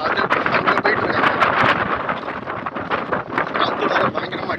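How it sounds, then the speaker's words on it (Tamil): Strong, gusting wind buffets the microphone near a new railway line construction site between Peralam and Karaikal, a steady loud roar with bursts throughout and no clear voices. "காற்று வேறு பயங்கரமாக அடிக்குது"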